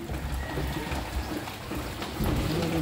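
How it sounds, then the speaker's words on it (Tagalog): Steady rain from Typhoon Enteng pattering on a surface during flooding, a dense continuous hiss with low rumbling underneath and no voices. "Tuloy pa rin ang ulan."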